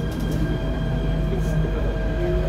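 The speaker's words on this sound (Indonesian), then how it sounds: "Kereta ini menuju stasiun akhir Lebak Bulus." Jakarta MRT subway train running underground, a loud continuous rumble and rolling roar with steady tonal whine from the motors and wheels, close and filling the car, no clear talk.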